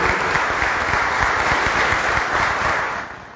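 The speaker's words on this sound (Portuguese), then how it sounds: "Vamos dar uma salva de palmas para ele" A crowd at a formal municipal council session claps steadily in sustained applause, dense and even throughout, tapering off slightly at the end.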